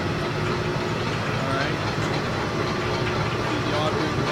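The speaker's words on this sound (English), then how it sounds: "we'll flip it over to mix grind, and you'll see the arms will go the opposite direction" A Hobart 4366 mixer grinder runs steadily in mix-grind mode, its motor and gearing giving a continuous loud mechanical drone with a faint rhythmic churn of the arms and auger, heard on its own without talk.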